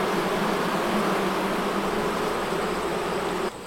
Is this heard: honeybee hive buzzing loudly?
yes